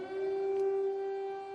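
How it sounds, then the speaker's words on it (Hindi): Air raid siren sounding over Kyiv during a wartime alert, a steady sustained wail heard from a distance, moderately loud and alone with no talking. "देखिए, रह कर ये एयर रेड सायरन्स आपको यहां सुनाई दे रहे हैं।"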